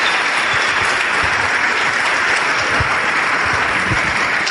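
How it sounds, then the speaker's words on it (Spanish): Loud, steady applause from an audience at a business seminar on financial freedom, with dense clapping that runs evenly throughout and has no voices over it. "Dale un aplauso porque eso es impresionante."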